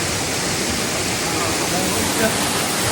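Water pours steadily down the Somtirth waterfall near Ratnagiri, a loud, unbroken roaring rush heard up close with no other sounds.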